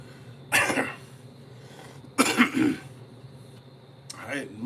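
Three separate coughs from a person with a cough lasting several days, loud and close, spaced about a second or more apart with quiet in between.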